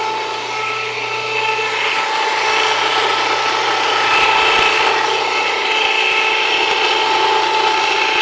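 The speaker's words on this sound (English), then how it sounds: "grind it a little bit coarser and then run it back through twice" A Jiffy precision mill grinds steadily and loudly for the whole stretch, a continuous mechanical whir with no pauses and no one speaking.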